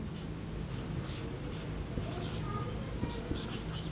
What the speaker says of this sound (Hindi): हम लोग लिखेंगे कि